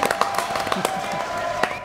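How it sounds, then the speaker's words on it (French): A studio audience applauds on a French TV show set, a brief burst of scattered claps and crowd noise over a steady tonal background, fairly close and moderately loud. "Applaudissements"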